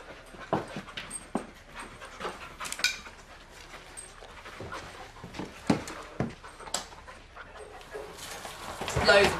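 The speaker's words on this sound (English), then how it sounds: "Send the dog in." A police dog pants and whimpers during a raid on a rented flat, quick breathy bursts and thin whines spread irregularly across the clip, with soft movement noises and some faint voices around it.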